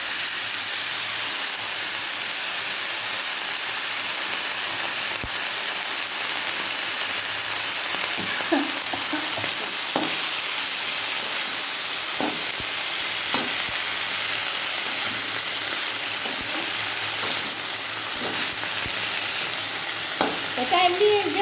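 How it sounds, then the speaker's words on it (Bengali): Kohlrabi greens hit a pan of fried onions and sizzle in a steady, loud hiss throughout, with occasional stirring clatter and no talk. "পেঁয়াজগুলো ভাজা হয়েছে, এবারে সেই ওলকপি শাকটা দিলাম"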